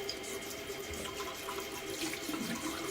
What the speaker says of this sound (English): I'm going to tune you out while this hot water comes in